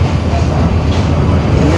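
A KRL commuter line train at Sindro station rumbles loudly and continuously up close, a dense roar with no distinct clicks and no talk.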